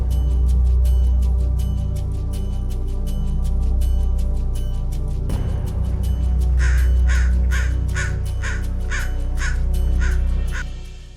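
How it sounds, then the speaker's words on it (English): A crow caws loudly and close by in a steady repeated series of harsh calls, with a brief shift midway before the cawing carries on at the same pace over a low rumbling background. "This crow is one of the noisiest animals"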